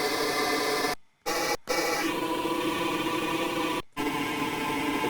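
The Love One Proton Rack Extension synth in mode 1 gives a dense, noisy, static-like wash of sound with several abrupt cutouts of silence, and no voice over it.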